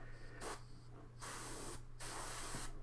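Airbrush spraying paint onto Warcry miniatures: a steady, fairly quiet hiss in bursts of about a second, broken by brief gaps as the trigger releases, close up with no voices.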